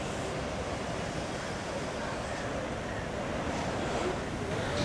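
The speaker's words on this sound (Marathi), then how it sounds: "त्यामुळे मुठा नदीचं पात्र दुथडी भरून वाहत आहे" Mutha river running in flood as Khadakwasla dam releases heavy discharge after continuous rain in Pune, a steady broad roar of rushing water that stays loud and unbroken throughout.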